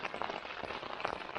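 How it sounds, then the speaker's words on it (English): Heavy rain drums on a tent during a January wild camp in the North York Moors, a dense patter of close, quiet drops with no voices. "it's been raining pretty heavily for a couple of hours now"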